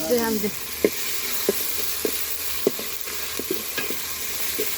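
Beef cooks in a pot with coriander and ginger-garlic paste, a constant sizzle under evenly spaced scraping stirs, close and moderate, with a short voice-like sound at the very start.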